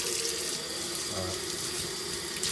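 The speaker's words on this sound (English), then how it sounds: "Sort of rinsing off some of the oil off my hands." Tap water runs steadily into a sink while hands are rinsed of cooking oil, a close, continuous splashing hiss lasting the whole moment.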